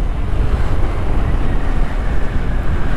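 A second-generation Honda Dio scooter on a ride, heavy wind buffeting the microphone over a low engine and exhaust rumble, steady and close, with no talk.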